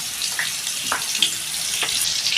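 Potatoes frying in a pan with salt and turmeric, giving a steady close hiss with a few soft pops and crackles and no voices.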